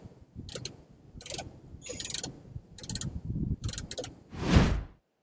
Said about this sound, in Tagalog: gamit lang ulit tayo ng ratchet at 10mm dip socket